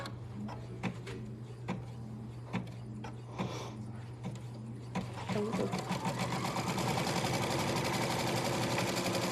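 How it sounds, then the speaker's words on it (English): A Baby Lock Altair 2 embroidery machine stitching scrap batting down in the hoop: rhythmic mechanical clatter and whir that begins with spaced thumps, then speeds into a fast, steady, loud stitching drone under a constant motor hum. "I'm just going to lay that over that piece, completely covering it and then stitch that down"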